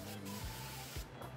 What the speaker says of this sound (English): So I'm just gonna take it and spray it.